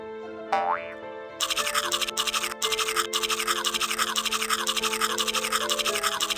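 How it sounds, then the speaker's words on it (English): A toothbrush scrubs teeth in a pop-up storybook app of Hansel and Gretel, a fast rhythmic brushing loop that starts after a springy boing and runs steadily, close and alone without speech. "Move the toothbrush up and down over Hansel's teeth to give them a good clean."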